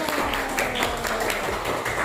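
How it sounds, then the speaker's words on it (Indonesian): A classroom of students claps together, a short burst of brisk, uneven handclaps close by with some murmuring voices underneath. "Tepuk tangan."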